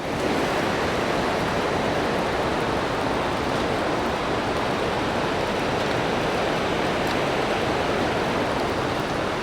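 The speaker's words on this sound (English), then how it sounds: "Look at that waterfall up there. The amount of water that's coming down." A powerful waterfall at Malham Cove roars as a loud, constant broadband rush, unbroken and close, with no voices.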